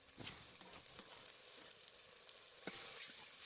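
Onion frying in oil with spices for a village-style fish curry cooked outdoors, a steady faint sizzle with light crackles and occasional stirring scrapes, no voices.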